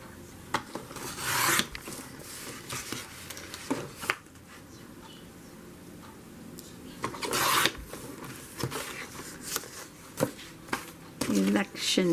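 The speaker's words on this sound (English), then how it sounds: "So what if I just cut this out?" Scissors cutting a piece of paper for a November gratitude journal, giving soft rasping snips and rubbing in short bursts, close up and fairly quiet.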